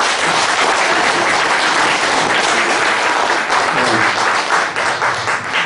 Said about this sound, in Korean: 박수를 또 힘차게 한번 쳐보세요